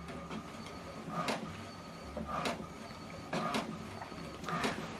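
An HP Deskjet printer prints an alignment page, its carriage sweeping back and forth in four short whirring passes at regular intervals over a quiet background.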